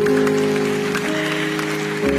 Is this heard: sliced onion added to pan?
no